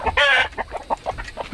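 Chickens in a farm flock with Black Copper Marans roosters, one loud squawk followed by a rapid run of close, choppy clucks, no talk.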